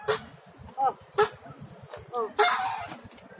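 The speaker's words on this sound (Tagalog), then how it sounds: "Gutom na si Gansoy, oh. Kaya palang ingay-ingay niya." Short, harsh honking calls from a hungry goose, several bursts at irregular intervals, fairly close, over a low, steady murmur of background noise.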